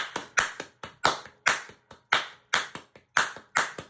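Crisp, close hand claps beat out a five-count rhythm, strong accented claps alternating with lighter ones in a repeating pattern, with no voices.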